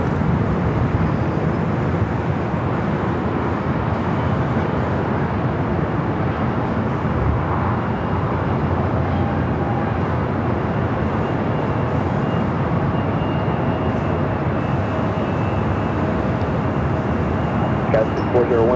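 Alaska Airlines Boeing 737 MAX 9 arriving at Los Angeles airport, a loud steady broadband jet roar filling the whole stretch without pause, with a radio voice faintly mixed beneath.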